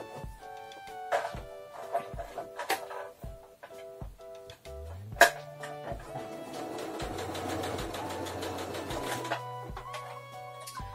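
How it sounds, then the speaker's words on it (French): A serger overlock machine stitches around a t-shirt hem, with sharp mechanical clicks and a fast, whirring stitching burst in the middle, close and fairly quiet without talk. "on va venir faire ce point-là tout autour de notre bas de t-shirt, des manches"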